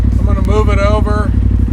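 Polaris RZR XP Turbo engine idling with a steady, rhythmic low chug as the machine is moved, with a person speaking briefly over the running engine.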